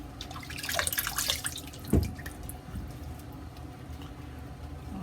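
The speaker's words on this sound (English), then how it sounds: "Let's rinse off." Running tap water splashes in a sink while a Rockwell T2 safety razor is rinsed, a steady close wash with a brief louder splash partway through, no talking.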